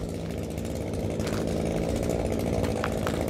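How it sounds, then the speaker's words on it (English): A chainsaw runs steadily, ready to cut down a jacaranda tree, a loud continuous buzzing drone with slight rises in pitch and no voices over it. "Chainsaw's ready, I'm ready."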